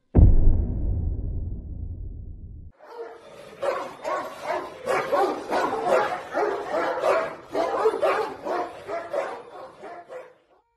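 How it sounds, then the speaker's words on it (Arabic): A large Turkish Kangal dog barks repeatedly in a steady series of deep, loud barks after a short low rumbling sound at the start. "كلب الكنجال التركي"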